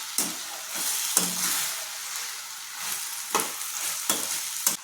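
Coriander and fenugreek chutney frying gently in oil in a pan, a soft continuous sizzle broken by scraping stirs and a few clanks of a spoon.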